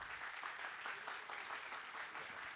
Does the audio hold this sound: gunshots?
no